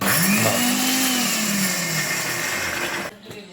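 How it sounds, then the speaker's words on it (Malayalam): A mixer grinder whirs loudly, blending chopped cabbage and egg mixture with a strong steady motor drone that dips slightly in pitch before cutting off abruptly near the end. "എന്നിട്ട് നമ്മൾ ഇനി അടിച്ചെടുക്കാൻ പോകണം അപ്പോൾ നമ്മൾ മിക്സിയുടെ ഇതിലേക്ക് വെക്കാൻ പോകണം"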